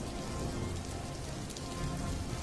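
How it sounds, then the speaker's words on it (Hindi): Heavy rain pouring down steadily, a dense, even wash of drops drumming on surfaces with no other sounds. "धीरे धीरे करके बारिश बहुत तेज हो जाती है"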